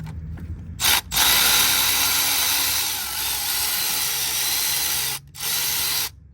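A ratchet loosens a 10mm bolt on the water pump of a 2008 Toyota Highlander 3.5 V6, making loud, close, rapid clicking runs broken by brief pauses; no one talks during the ratcheting.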